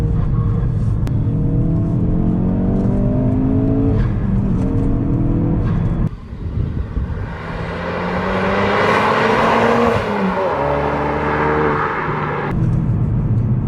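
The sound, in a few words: Ford Focus RS engine with big intake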